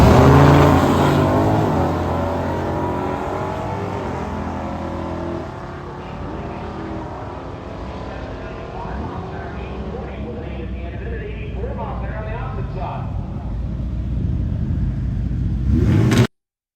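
Classic cars drag racing at a dragstrip, a 1966 Ford Galaxie lined up against a Dodge Super Bee: loud engines revving hard and accelerating away, fading somewhat before roaring again near the end, with voices mixed in.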